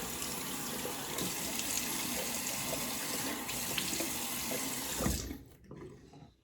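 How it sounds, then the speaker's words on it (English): Tap water runs steadily into a sink as a man wets his face before a shave, a close, even splashing rush that stops abruptly near the end, leaving brief quiet drips. "go ahead and get my face wet real quick"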